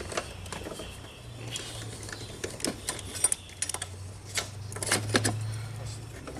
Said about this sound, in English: We're going to use a 10 millimeter socket.